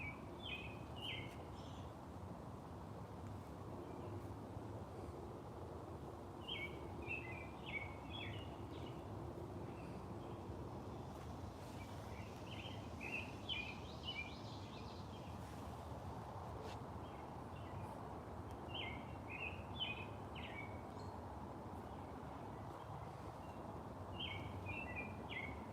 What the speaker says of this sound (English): Enjoying the birds.